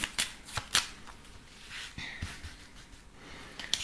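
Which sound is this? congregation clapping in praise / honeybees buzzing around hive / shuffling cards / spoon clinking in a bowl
shuffling cards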